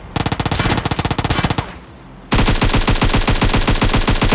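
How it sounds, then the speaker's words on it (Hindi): Uzi fired in a mobile battle-royale shooter game, two rapid bursts of sharp, evenly spaced shots, the first about a second and a half long, then a short pause before a louder, steady second burst. "और आगे चल के मेरे पे फायरिंग होती है उजी से।"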